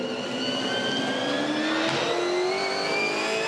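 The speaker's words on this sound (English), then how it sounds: "Cars look good coming onto the straight then." V8 Supercars race past at Phillip Island, a continuous loud engine roar with rising pitch as the cars accelerate, heard from a distance without talk.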